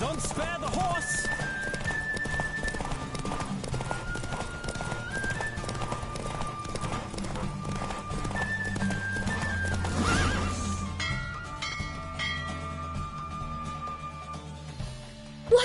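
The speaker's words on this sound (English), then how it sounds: "Don't spare the horse!" A horse gallops in a race in the video game The Witcher, steady clip-clop hoofbeats running throughout with repeated neighs and whinnies, under game music and voices.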